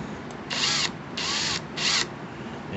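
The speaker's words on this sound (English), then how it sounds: "I'm gonna chuck this rod up into my drill" An electric drill spinning a polishing rod inside the chamber of a Citadel PAT shotgun runs in three short bursts of about half a second each, close and fairly loud, separated by brief pauses.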